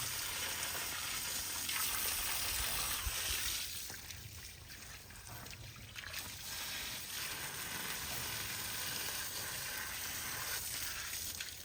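Water runs steadily while a water buffalo's feet are washed during hoof care on a farm, a continuous close splashing gush that eases slightly partway through.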